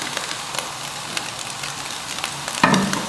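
Egg and chicken sizzling in a hot pan for chicken fried rice, a steady crackling fry close by with a louder burst of sizzle near the end as more goes in.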